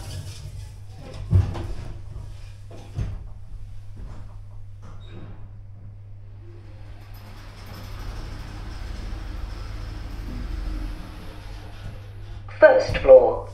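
A Stannah passenger lift at a Sainsbury's store in Thetford closes its doors and travels, a low steady motor hum running underneath with soft clunks and a recorded announcement voice.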